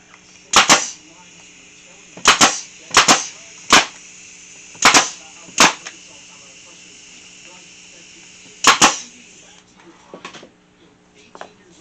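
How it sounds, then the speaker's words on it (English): Pneumatic staple gun firing into wooden pieces held in a jig for a cross wall art piece, eight or so sharp close snaps in irregular bursts, with a faint hum between shots. "You're going to staple it in place."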